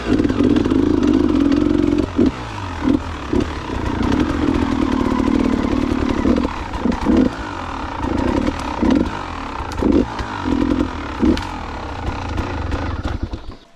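Enduro motorcycle riding off-road on a Balkan trail, its engine droning loud and close with repeated throttle blips and brief dips, mechanical clatter over the rough ground throughout.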